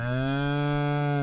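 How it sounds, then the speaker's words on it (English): Cow sound effect from a Stream Deck animal category, a single steady, loud, drawn-out bovine moo heard alone with no talk. "So, cow munches."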